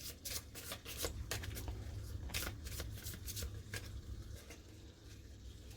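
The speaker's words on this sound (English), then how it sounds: "a quick little shuffle" Tarot cards are shuffled by hand in a quick, close, soft riffling patter of rapid flutters that continues throughout without talk.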